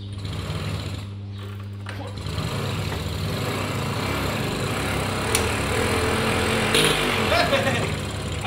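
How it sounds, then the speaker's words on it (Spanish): A Vespino Sport moped engine with no decompressor is kick-started, giving a rough, rapid mechanical chatter close up, and someone talks over it. "vamos a darle al starter, no tiene descompresor"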